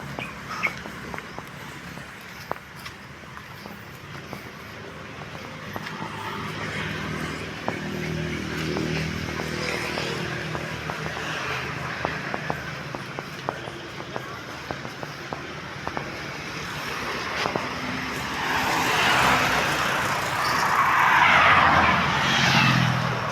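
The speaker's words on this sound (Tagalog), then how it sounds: "Ang sasakyan." Vehicles pass on a highway, heard as a continuous road rumble with swelling and fading whooshes, one louder pass building near the end, close and steady throughout.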